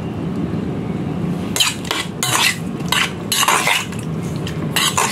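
Pork marinade with chicken powder is mixed in a bowl with a utensil, giving a series of close scraping and clinking bursts at a loose, uneven rhythm, with no voices.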